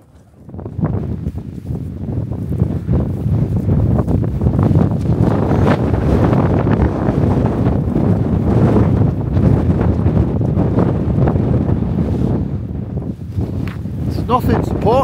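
Steady, heavy wind roars against a tent close by, a constant rushing pressure without distinct gusts or flapping.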